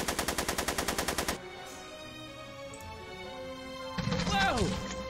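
Gunfire erupts in the Back to the Future: The Game speakeasy shootout as a rapid, loud burst of evenly spaced shots. It is followed by quieter ambience and a voice-like sweep near the end.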